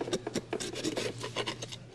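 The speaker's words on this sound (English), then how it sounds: "Then he uses a chisel for the final cleanup." A chisel scraping across a wooden cabinet front panel during final cleanup, giving rapid, uneven rasping strokes up close, alone without talk.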